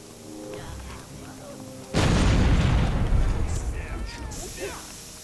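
A gate blown apart by a club-wielding enemy in the video game Overlord: one sudden loud, close boom with a broad crashing burst that slowly fades, followed by scattered debris and game effects.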